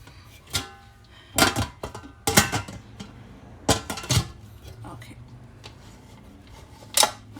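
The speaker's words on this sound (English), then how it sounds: "So we're going to close our pressure cooker" A metal pressure cooker lid being closed on a stovetop, with several sharp clanks and clicks spread across the span, with a person speaking in between.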